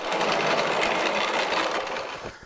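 A homemade hand-cranked blower on a portable coal forge, geared at a 1 to 48 ratio like a Champion 400, gives a loud, steady whirring drone close by that tails off near the end as the crank slows.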